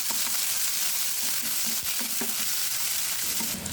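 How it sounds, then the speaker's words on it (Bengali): Chopped onions fry in hot oil with nigella seeds in a wok while being cooked for a pangash fish curry, a loud, steady sizzle with occasional stirring scrapes. "পেঁয়াজগুলো লাল করে ভেজে নিয়ে দিয়ে দিলাম গরম পানি"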